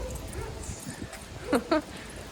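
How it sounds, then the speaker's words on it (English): A dog on a city neighborhood street in Toronto barks twice in quick succession at another dog during a walk, sharp and fairly close, with people talking around it. "Dogs don't seem to like Roscoe either"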